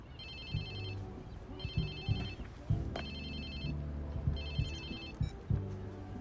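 A mobile phone rings in the video game Watch Dogs 2, a bright electronic ringtone repeating in three bursts over low game ambience and thuds.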